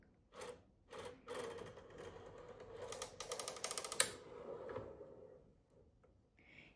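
A knitting machine carriage runs across the needle bed in short bursts, making a clattering, rattling mechanical sound that swells and fades, close up and fairly quiet, with no speech.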